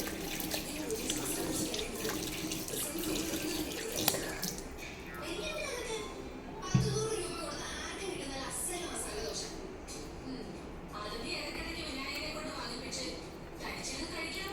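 Tap water runs steadily into a sink while a neem face pack is washed off the face, a continuous close splashing rush with small shifts as hands move through the stream.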